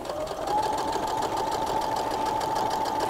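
Sewing machine stitching a pant hem, running at a steady even speed with a continuous whirring, rapid needle rhythm throughout, close and fairly loud, with no talking.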